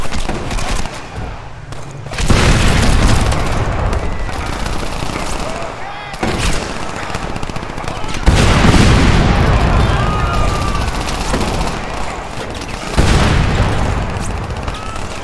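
Explosions and gunfire in the Xbox One game Crackdown: loud booming blasts recur every few seconds amid continuous rattling machine-gun fire, dense and close.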